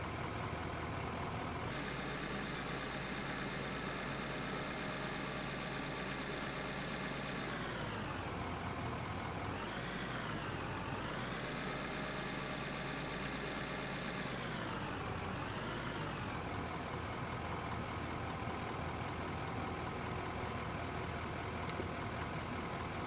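A road roller's engine idles in the construction game Out of Ore, a steady, close mechanical drone that dips and swells in pitch a few times midway, with no voices.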